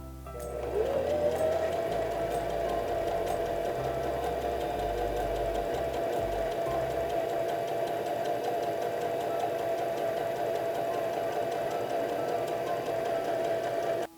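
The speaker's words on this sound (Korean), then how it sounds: "후진 레버 눌러주면서 페달을 밟아주는 거예요" A Brother GS2700 domestic sewing machine runs steadily while reverse stitching with the reverse lever held, a continuous even motor whir with a rapid needle rhythm, close and alone for the whole stretch.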